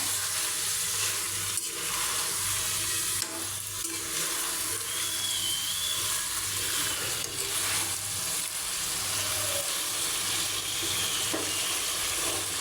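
Chicken and dal curry being stirred in a pot with the lid lifted: a steady, loud frying sizzle fills the whole stretch, with soft scraping stir movements underneath and no talking.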